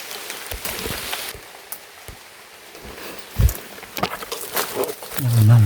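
Rain falls steadily through a forest during a walk in search of bamboo shoots. Footsteps and scattered close drip and rustle sounds mix into the patter, with occasional human sounds.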